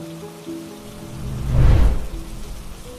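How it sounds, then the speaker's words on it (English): Steady patter of rain on a surface, swelling briefly into a heavier rush before settling back to a soft, continuous drizzle. "It was raining that night."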